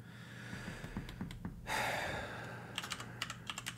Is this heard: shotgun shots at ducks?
no